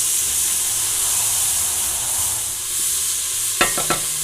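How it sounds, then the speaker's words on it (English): Onions and garlic paste sizzling in a pot while being stirred, cooked outdoors for balsamic BBQ sauce, a steady bright hiss with a few sharp scraping knocks of the spoon near the end. "So add the onions to the pot, stir those around a little bit."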